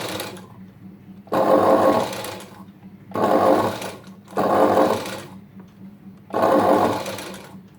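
A sewing machine stitches a blouse sleeve in four loud bursts of steady whirring, each a second or so long, separated by short pauses with quiet handling noise.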